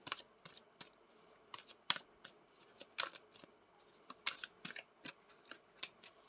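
Tarot cards being shuffled by hand, a quick run of crisp riffling snaps and soft slides repeating in close, uneven bursts, quiet and intimate with no talking.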